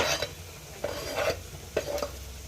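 Chopped tomatoes going into a hot frying pan for a brinjal dish, with soft sizzling under a few sharp scraping stirs of a spoon against the pan, close and fairly quiet.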